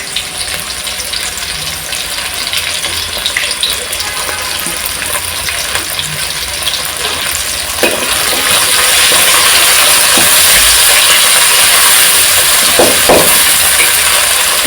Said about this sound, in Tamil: இது நல்லா ஃப்ரை ஆகட்டும்